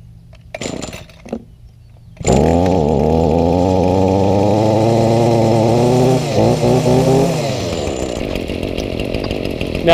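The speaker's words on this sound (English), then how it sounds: "Now it's time to get busy on the ECHO 3020." An ECHO 3020 engine-powered trimmer starts with brief sputters, then roars steadily at full throttle close by, its pitch dipping and rising slightly before settling into a loud continuous drone.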